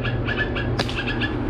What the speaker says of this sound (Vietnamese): Chim sâu nó còn nhiều hơn chim kia đó.